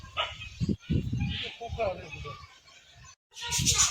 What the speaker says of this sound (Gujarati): આમાં તો કેટલા બધા કૂતરા છે